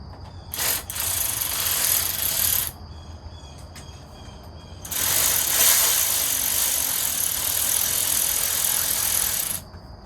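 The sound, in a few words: hand tools removing motorcycle seat and fuel tank mounts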